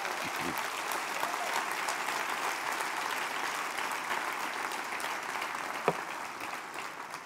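Sustained applause from a church congregation during a Sunday service, steady clapping filling the whole stretch at an even level, with one sharper clap standing out near the end.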